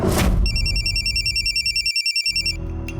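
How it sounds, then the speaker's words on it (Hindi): An electronic phone ringtone trills in a rapid pulsing pattern for about two seconds, then stops abruptly, with a low rumble of background noise underneath. "उसके बाद फौरन मैंने मुकेश को फोन लगाया।"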